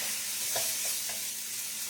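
Chicken stir-fry sizzles steadily in a hot pan, a close, continuous hiss of frying with a few soft stirring scrapes and no voices.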